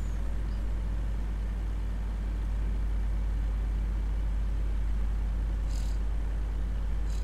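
A Peterbilt 379 day cab truck engine in Farming Simulator 19 rumbles with a steady low drone throughout, a constant idle with little change and no talk.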